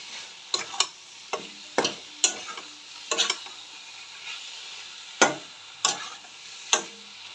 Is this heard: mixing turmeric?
yes